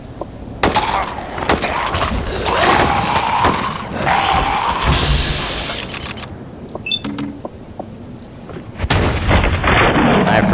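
Shotgun blasts in Fallout against ghouls in the Glowing Sea, several heavy booming shots spread across the clip amid game combat noise, close and loud.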